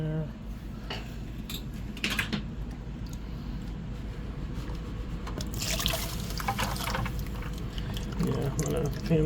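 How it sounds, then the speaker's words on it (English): Water sloshes and trickles in a gold pan during indoor panning in a basement, with irregular swirls, splashes and occasional scraping of gravel against the pan, close and continuous. "I'm going to pan that all down at once"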